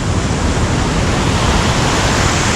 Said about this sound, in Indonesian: Seperti kita lihat ombaknya sampai ke atas ya. Memang sedang besar ombak sekarang.